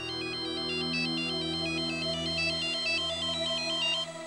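A mobile phone ringtone plays on in a Hindi TV drama office scene, its steady repeating electronic melody ringing clearly for several seconds with no talk over it.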